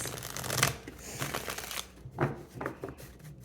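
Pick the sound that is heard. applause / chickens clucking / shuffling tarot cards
shuffling tarot cards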